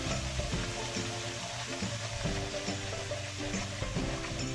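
Chicken korma fries in a pan, giving a soft, continuous sizzle with a gentle rhythmic stirring texture throughout.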